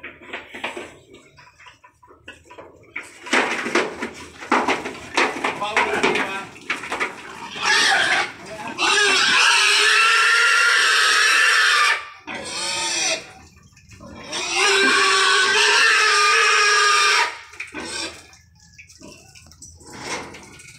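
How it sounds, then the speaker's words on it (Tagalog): Loud, shrill pig squeals come in repeated long bursts as the animals are loaded, close by. They are broken by quieter gaps with shuffling and handling noise, and people talk in the background. "Mayroon din po doong nabiling isang Mama Pig ang mga tropa, si Boss Ray."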